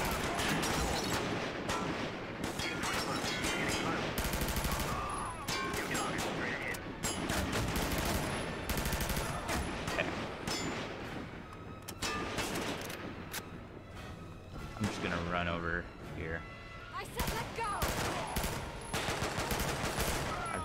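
Dense, loud gunfire bursts from the PC video game Quantum of Solace fill the scene almost continuously, with rapid volleys and heavy impacts layered over the game's background sound.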